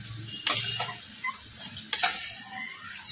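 Dry chickpeas tumble into a hot pan of sizzling spices for chana masala, giving two sharp clattering bursts of rattling and stirring over a steady background sizzle, close and fairly loud with no voices.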